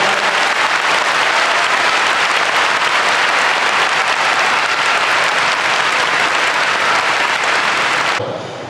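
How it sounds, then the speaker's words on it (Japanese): Sustained, dense applause from a large audience at a sumo wrestler's retirement hair-cutting ceremony fills the whole stretch, steady and loud, then cuts off abruptly near the end. "どうか拍手でお見送りください。"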